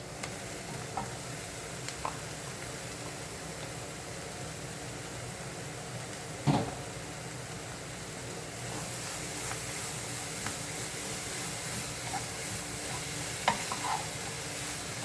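Finely chopped cabbage and carrot fry in oil in a pan, a steady close sizzle with a few sharp scrapes and taps of the stirring spoon, and no talking.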